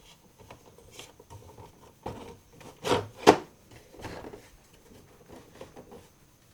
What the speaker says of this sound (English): And then we're going to slide the cover back on.